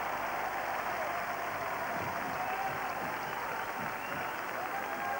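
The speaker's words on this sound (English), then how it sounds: "Give them some applause," A studio audience at a 1982 Jeux Sans Frontières heat in Sherborne, Dorset, applauds in a steady, dense wash of clapping that holds at an even level throughout.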